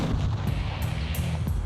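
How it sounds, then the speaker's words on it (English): Rifle gunshots on a turkey hunt in north central Oklahoma: several sharp reports ring out over a steady low rumble of wind or ambient outdoor noise, no voices. "Great shot!"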